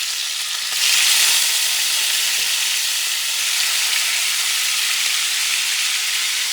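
Bison pieces sizzle loudly in hot duck fat for a native bison stew, a dense steady frying hiss that swells after the first second and keeps going close up without pause.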